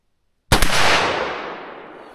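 A single .357 Magnum round fires from a rifle with an 18-inch barrel: a sudden loud blast out of silence, with a long rolling echo decaying over the next second and a half.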